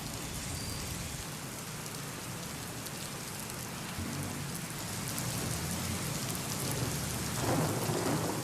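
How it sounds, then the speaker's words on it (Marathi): Heavy monsoon rain pours down in Pune, a dense unbroken hiss of drops on surfaces that swells slightly louder toward the end, with no voices. "मुसळधार पाऊस पुण्यातल्या अनेक भागांमध्ये अजूनही कोसळतोय"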